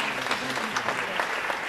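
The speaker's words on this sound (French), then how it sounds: "vous pouvez applaudir Juliette" A studio audience claps for Juliette, a young intern, with a fairly soft, sustained patter of many hands and scattered sharper claps throughout.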